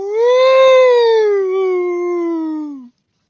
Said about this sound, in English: as the great howling moan echoes eerily through the canyon